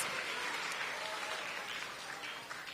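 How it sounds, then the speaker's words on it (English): An audience at a school event applauds the principal, a continuous mass of clapping at moderate distance, even and unbroken throughout. "Give her a big round of applause"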